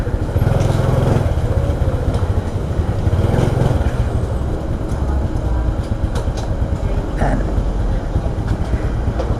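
A motorcycle engine runs during an LTO registration inspection, a continuous rough mechanical drone with a rapid pulsing rhythm that stays loud and close throughout, with no pause.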